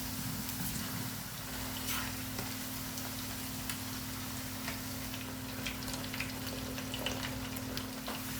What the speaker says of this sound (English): And then I put them in oil.